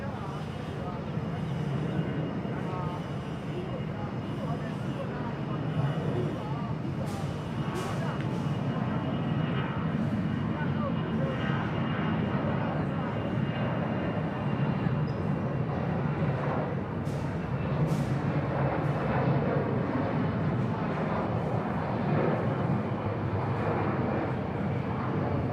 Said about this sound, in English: Alright, so Aeroflot heading up there for departure.